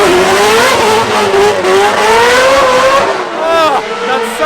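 A drift car at a Drift Masters event in Germany revs hard and sustains a high wailing engine note, with tire squeal and rising pitch sweeps near the end, loud and close against crowd and commentary noise.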